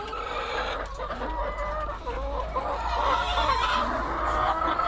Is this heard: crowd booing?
no